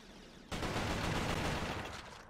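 Gunfire bursts out in Resistance: Fall of Man after a brief quiet moment, a dense, loud rattle of rapid shots that keeps going and then begins to fade.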